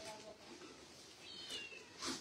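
A cat meows faintly several times, with a brighter meow near the end, over low background noise.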